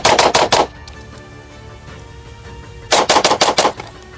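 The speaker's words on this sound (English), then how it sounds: "It feels like shooting is easy when you're shooting this gun." Rapid gunfire from an Atlas Gunworks Erebus pistol: a quick string of about five loud, sharp shots, a pause of quiet, then another fast string of about five shots, close and alone.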